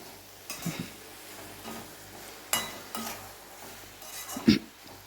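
A spoon stirs salt into a ridge gourd and cashew curry in a pan, making soft, scattered scrapes and a few light clinks against the metal over a quiet background, with no voices.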